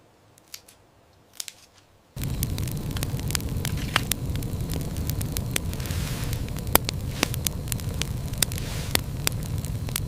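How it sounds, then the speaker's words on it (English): After a brief quiet start, a loud outdoor wood cooking fire by a stream crackles and pops continuously, with sharp snaps scattered over a dense, steady roar. "Loud, intense crackling and popping of wood fire."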